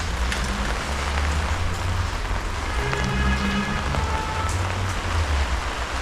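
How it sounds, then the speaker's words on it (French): Steady rain patters on surfaces around a Peugeot 205 off-road car, a dense even hiss with occasional louder drops, no voices. "La pluie veut pas s'arrêter."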